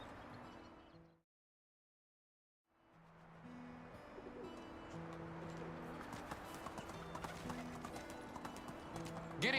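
Horse hooves clip-clop at a steady trot in the video game Medieval Dynasty, with birds cooing and calling in the background; the sound cuts out briefly near the start before the hoofbeats resume.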